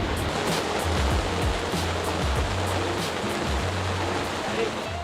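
Broad, steady rush of river water flowing during a crossing in Colombia, loud and close, with a few low thumps and splashes against the constant roar.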